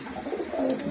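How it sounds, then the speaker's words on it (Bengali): A pigeon, a male of a puter breed for sale at a shop, coos in soft low repeated murmurs that swell and fall across the second, close and unaccompanied by talk. "এখানে একটা পুটারের একটা মেল আছে, এটাও নতুন কবুতর"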